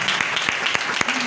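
A church congregation claps at a Thursday night healing prayer meeting; the short burst of clapping is steady and fairly loud, with a few sharper individual claps standing out.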